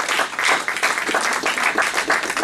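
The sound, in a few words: congregation applauding in church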